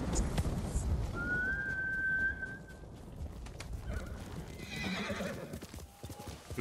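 In the video game Ghost of Tsushima, a horse's hooves clop and it gives a short whinny, with a thin whistle-like tone over a busy mid-level background and no clear talking.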